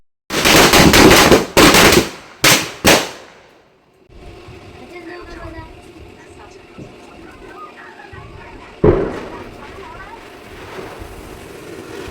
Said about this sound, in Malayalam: ഞങ്ങൾ നേരെ പടക്കം പൊട്ടിക്കാൻ പോവാണ്